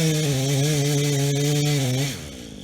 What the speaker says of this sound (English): respect the chainsaw